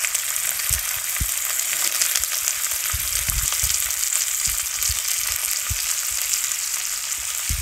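Chopped cabbage frying in oil with an arhar dal tempering, a dense, even sizzle close up with soft low thumps of stirring scattered throughout, no one speaking.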